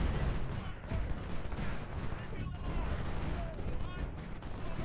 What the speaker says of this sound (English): just let the artillery fire for an hour